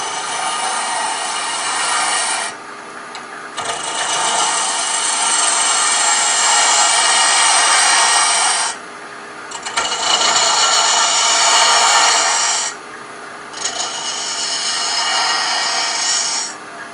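A wood lathe hollows the inside of a mushroom box, the gouge slicing through spinning end grain in long, loud hissing passes, broken by brief pauses between cuts.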